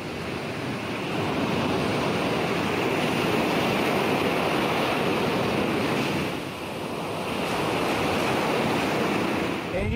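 Ocean surf washes steadily onto a shore, a continuous loud roar of breaking waves with wind buffeting the microphone and a brief dip in the swell midway.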